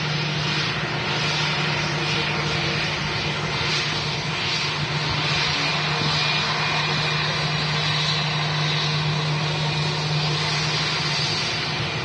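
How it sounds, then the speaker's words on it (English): An 18-year-old British Airways Airbus A321 at Manchester Airport roars with a loud, steady jet engine drone and a sustained low hum throughout, with no talk over it. "18-year-old aircraft this, the British Airways"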